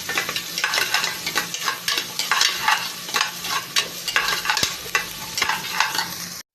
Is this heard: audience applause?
no